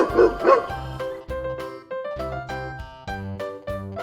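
A domestic dog barks loudly and close in a steady run of about seven sharp barks with short gaps between them, and no other sound intrudes.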